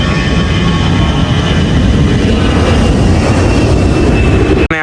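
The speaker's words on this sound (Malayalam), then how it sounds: "അവിടെ ഒരു ഫ്ലൈറ്റ് വന്ന് ലാൻഡ് ചെയ്തതോ എന്തോ ആണ് കേട്ടോ അതോ അത് പറക്കുന്നതാണോ" A loud, steady engine roar fills the whole stretch, a broad constant rumble like a nearby jet aircraft, cutting off abruptly at the end.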